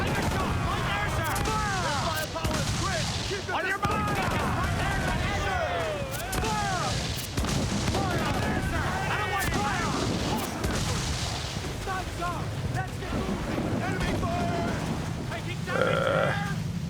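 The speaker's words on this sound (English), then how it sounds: "Why are there so many mortar shots?" In Assassin's Creed 4 naval combat, a Man of War fires rapid volleys of mortar shots, repeated booms and whistling shells in a busy battle mix, with players talking over it.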